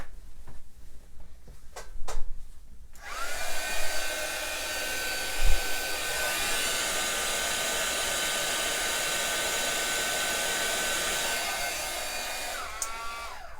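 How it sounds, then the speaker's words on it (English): Heat tool melting embossing powder on a Stampin' Up Forever Blossoms card: a steady, loud blowing whir that switches on after a few quiet seconds, runs continuously, and cuts off near the end, with a couple of faint clicks before it starts. "I'm going to heat this one little spot."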